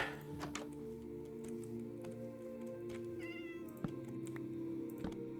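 Cats meowing in a Minecraft snow village: short, fairly faint mews scattered across a few seconds, mixed with light clicking and ticking over a low steady background hum.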